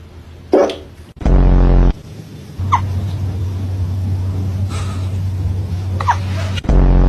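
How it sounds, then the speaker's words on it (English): A small cat hiccups in a quiet indoor room: about three brief, soft, separate jerks spread over several seconds, with a low steady hum and a couple of louder bumps in between. "Do you have the hiccups?"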